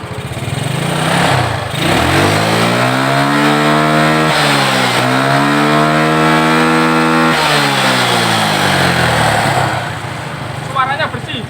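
A Yamaha Mio motorcycle engine revs loudly and up close while its carburetor is being tuned, the pitch rising and falling in repeated swells over a steady idle.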